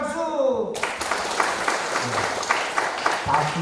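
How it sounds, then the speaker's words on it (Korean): Church congregation at a Presbyterian seminary gathering breaking into applause on cue, a dense sustained clapping that begins abruptly after a short tail of speech and continues steadily throughout. "그럼 다같이 박수!"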